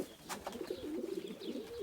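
Pigeons cooing during egg-chasing courtship, the male following the female closely; a soft, steady low cooing runs through the short stretch with no talk.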